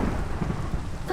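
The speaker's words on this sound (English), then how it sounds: "Oh, the lightning." A Minecraft thunderstorm brings a steady roar of rain and rolling thunder, dense and continuous throughout.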